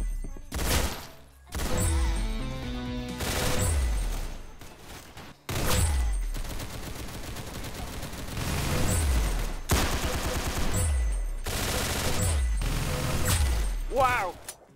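Rapid bursts of gunfire from a Roblox Arsenal match, repeated volleys of shots with short gaps between them, loud and close, with game sounds mixed in and no talking.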